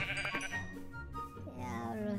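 Sheep bleat repeatedly in a blocky Minecraft-style video game, the calls layered over background game music and sound effects at steady moderate loudness.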